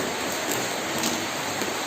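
Heavy rain pours steadily outside a home in Nagaon during a birthday party, a dense, even hiss of falling water that fills the whole moment with no break.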